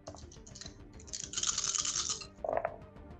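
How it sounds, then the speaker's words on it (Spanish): A handful of tabletop role-playing dice clatter and roll across a table during a Vampire: The Masquerade session, a quick rattling burst lasting about a second, followed by a brief clack. "Me gusta el ruido de todos esos dados."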